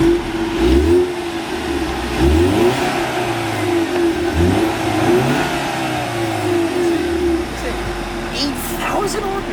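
A car engine revs hard and close, rising and falling in repeated surges over a rough idle, with people talking over it.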